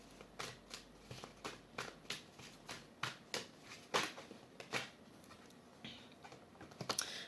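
Tarot cards being shuffled close by, a quiet series of crisp riffling flicks and taps in an irregular rhythm with a few sharper snaps, no talking.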